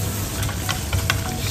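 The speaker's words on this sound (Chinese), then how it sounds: "它滋滋滋啦滋啦的，看到没有？ 冒泡泡的兄弟，有没有？" Shallots fry in a hot clay pot with a continuous loud sizzle and crackle, with a few sharper pops rising above the hiss, close by and with no talk.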